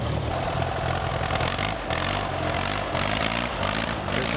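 The engine of an antique tractor at a tractor pull show runs in a continuous mid-pitched chug and rumble, steady and fairly close, with no voices.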